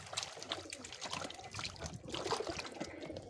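Water trickling and splashing while potted fern plants are watered by hand, soft uneven dribbles and patters at close range, quiet and with no talking.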